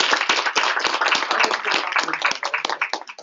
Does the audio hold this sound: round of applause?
yes